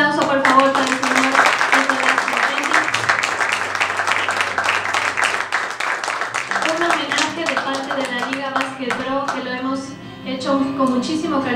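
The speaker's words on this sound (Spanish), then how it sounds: "Un aplauso, por favor, para el señor." Steady clapping from an audience at a basketball tribute ceremony held for a celebrated player, continuing throughout over music with tonal lines.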